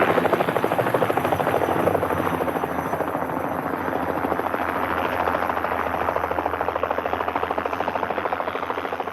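A surveyors' helicopter flying over remote, rugged Nevada terrain, its rotor chopping in a fast, steady beat with a constant engine drone, loud and close throughout.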